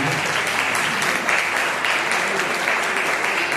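Enthusiastic audience applause for an honored guest at a spiritual ashram festival gathering, a continuous loud wash of many hands clapping with no break throughout.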